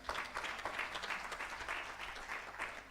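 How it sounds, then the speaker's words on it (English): Round of applause for a vice-chancellor at a university STEAM festival, many hands clapping in a dense, slightly uneven patter, heard from a distance and fairly faint. "You give a round of applause to the VC"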